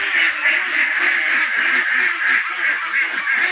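A flock of ducks quacks continuously and close by at a backyard duck shed, overlapping calls forming a steady noisy chorus.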